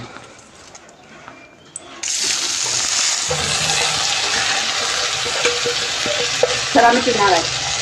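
Rice dropped into hot ghee with whole garam masala spices for pulao, a sudden loud burst of sizzling that settles into a steady crackling fry with stirring clatter.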